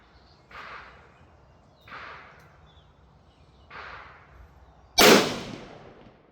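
Shots ring out at a target range where a Remington 760 Gamemaster rifle is being fired: three fainter, evenly spaced cracks, then one much louder, close blast near the end.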